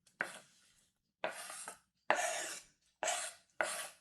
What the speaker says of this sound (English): We also are cutting the onion, chop it very small.